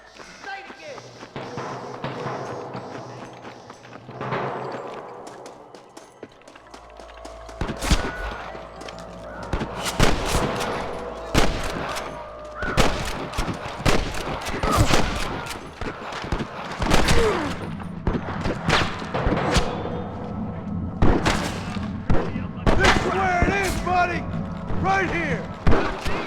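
Repeated gunfire rattles through a Red Dead Redemption shootout, with dense bursts and single cracks layered over music and other game sounds, loud and close for most of the stretch, and characters shouting and talking between the shots.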